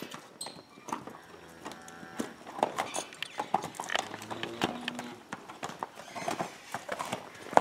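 A racehorse's hooves clip-clop in an uneven walking rhythm, close by and distinct, with faint background noise and no clear speech.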